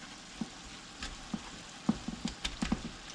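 Chuck steak browning in a pan for homemade chili, a soft continuous sizzle punctuated by irregular pops and spatters and a few stirring clicks, close and fairly quiet, with no talking.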